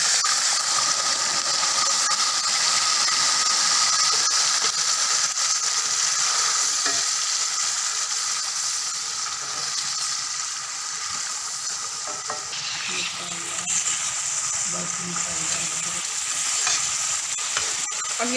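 Whole garam masala spices sizzle steadily in a hot pan for a dhaba-style dal makhani, a dense continuous frying hiss with occasional stirring scrapes throughout.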